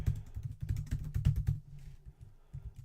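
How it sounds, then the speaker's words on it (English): Computer keyboard typing for a blog post, a busy run of quick, uneven keystrokes close by for about a second and a half, then thinning to a few scattered taps. "I cannot type today."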